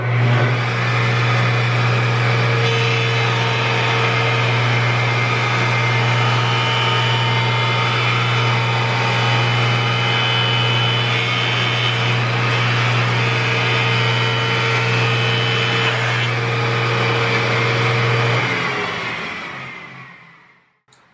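A restored 1980s Delta DJ20 jointer planes a walnut offcut, giving a loud, steady whir of spinning cutterhead and wood shaving that holds for about eighteen seconds, then winds down to quiet.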